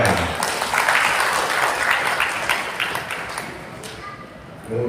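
Audience applause at a Betawi community year-end reflection gathering in Central Jakarta, a steady wash of clapping filling the room for several seconds before easing off, with some voices mixed in.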